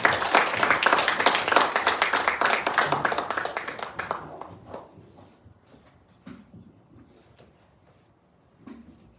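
A church congregation gives warm applause to welcome a visiting missionary pastor to the pulpit, dense clapping that fades after about four seconds into a few scattered claps and quiet room shuffling, with faint voices near the end.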